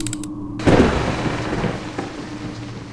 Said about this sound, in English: Oh, sweet, beautiful autumn, bring us the rain and the wind.